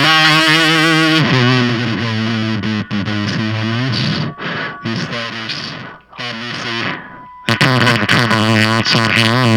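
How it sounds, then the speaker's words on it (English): Joe Gore Filth Fuzz pedal pushes a guitar into a thick, buzzing fuzz tone, with loud sustained chords and notes that stop briefly twice before the playing resumes. "This is almost just a little fuzzy radio kind of tone right here."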